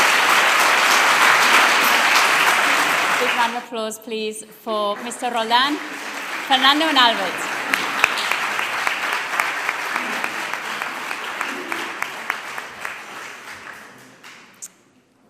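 Audience applause fills a school Year 13 graduation ceremony hall, steady dense clapping throughout, with a voice speaking over it briefly near the middle before the clapping fades at the end.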